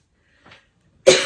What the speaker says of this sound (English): Oh, that ticklish cough.